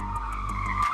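A toy race car on a play track gives a brief, steady tire skid that swells slightly at the end, alone and fairly loud.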